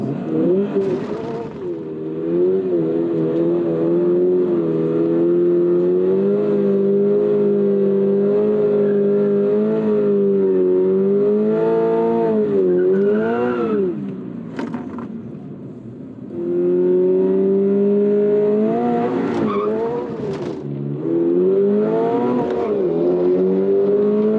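Naturally aspirated four-cylinder Subaru BRZ engine accelerating hard through the gears on a full-throttle run, steady loud rising drone with brief drops at each gear shift, close and continuous.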